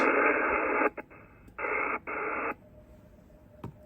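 A radio receiver gives bursts of steady keyed CW Morse code tone over hiss, a few on-off pulses spaced irregularly, then background noise with a faint click.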